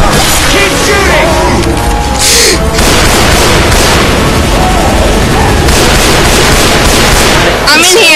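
Constant gunfire and booming blasts in the video game Left 4 Dead 2, dense and very loud throughout, with shouting voices mixed into the chaotic battle noise.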